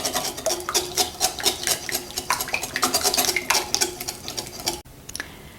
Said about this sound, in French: donc je mélange le tout jusqu'à obtenir un mélange homogène